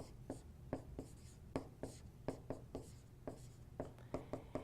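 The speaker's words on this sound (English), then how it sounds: "Let's take C and write it down." Marker or chalk writing equations on a board during a math lesson on solving linear equations with three variables, a series of short scratchy strokes in an irregular rhythm, close and fairly quiet.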